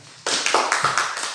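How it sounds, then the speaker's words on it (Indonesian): A class claps for a student group in a school lesson: a sudden burst of close hand claps falls into a steady group rhythm of several beats, with no voices. "tepuk tangan untuk kelompok 1"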